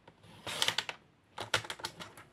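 Scrapbooking paper being cut with a paper trimmer: two quick bursts of crisp scratchy rasping clicks, each lasting under half a second, separated by a brief quiet gap, close and clear.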